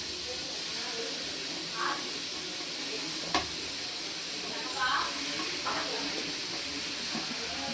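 Chicken pieces, 1.5 kg including feet and heads, frying in a pan for pepper chicken masala, giving a steady soft sizzle with occasional stirring clatters and a few brief sharp knocks.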